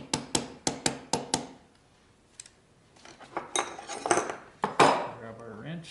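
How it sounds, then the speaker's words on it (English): A wrench tightens the battery terminals on a Suzuki Samurai, starting with a quick run of sharp metallic clinks, followed by a pause, then scattered clanks and rattling handling noises nearby. "Grab our wrench, tighten them down."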